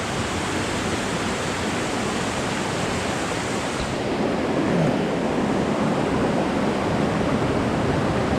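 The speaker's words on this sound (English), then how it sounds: "Made to the waterfall." Steady, dense rush of a waterfall, a continuous broadband roar that swells slightly louder partway through, with no voices over it.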